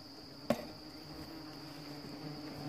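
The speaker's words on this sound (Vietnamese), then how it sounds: "Ong rất nhiều đó." Yellow-legged wasps buzzing faintly at a large nest, a thin steady hum with a sharp knock near the start.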